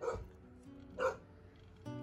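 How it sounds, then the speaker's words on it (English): Two small dogs barking indoors, two short yapping barks about a second apart followed by a brief whine, faint and somewhat distant, with no talk. "now you hear my dogs"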